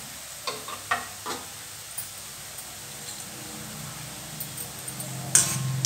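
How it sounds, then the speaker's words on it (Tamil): Boondi batter dropped through a ladle sizzles in hot frying oil for laddu, a soft bubbling crackle with a few light clicks of the ladle and a brief scrape near the end, no talk. "இந்த எண்ணெயோட சலசலப்பு கொஞ்சம் லைட்டாக அடங்கட்டும்"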